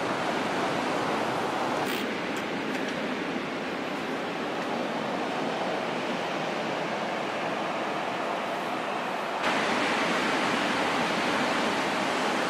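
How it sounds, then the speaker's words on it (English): Steady ocean surf washing onto a beach, a broad, continuous roar of breaking waves with no pauses, close and fairly loud throughout, with no voices. "Let's go to the surf."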